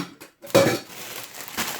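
A titanium pot clanks and scrapes during cooking, with a sharp metallic knock partway through followed by lighter handling rattles, close and fairly loud.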